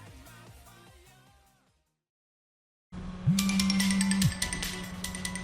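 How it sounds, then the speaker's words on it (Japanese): Incoming-call ringtone in the Initial D arcade racing game sounds loudly after a moment of silence, with a bright repeating electronic tone and a steady sustained note over game music. "着信あり。"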